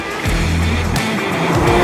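Naturally aspirated flat-six of a Porsche GT3 RS passing on roads around Roquebrune-Cap-Martin, a loud close rush with rising and falling engine tones that sweep by.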